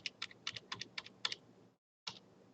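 Arrow keys on a computer keyboard are tapped in a quick run of crisp clicks, about a dozen evenly paced presses, then a brief pause and one more tap, close and quiet.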